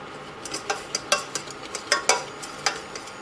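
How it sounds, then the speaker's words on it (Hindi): Spices with a little Kashmiri chili and a pinch of sugar are stirred and roasted in a pan for dabeli, giving a quiet series of scraping, clicking strokes at an irregular pace, close up with no talk. "इन सब चीज़ों को अच्छे से, मसालों को भून लेते हैं।"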